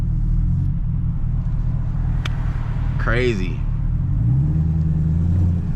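A deep, steady supercharged Camaro ZL1 engine rumble runs throughout, with a brief rise in revs midway and a voice speaking over it.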